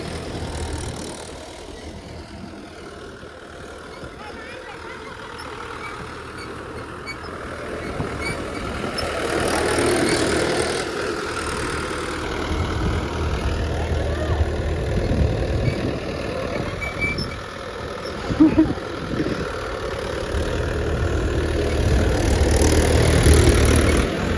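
A Swaraj 843 XM four-cylinder tractor engine runs steadily at low throttle, a continuous mid-loud rumble with a slight swell near the end.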